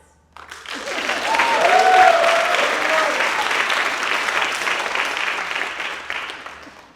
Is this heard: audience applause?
yes